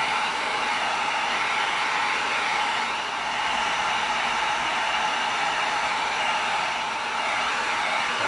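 A heat gun blowing hot air onto an EVA foam axe blade to soften it for flattening, a steady loud airy roar running continuously throughout without talk.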